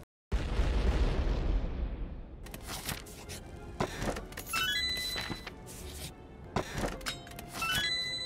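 A bomb goes off in a video game, a loud booming blast that decays over about two seconds, followed by a run of bright electronic chimes and rising pickup tones with sharp clicks.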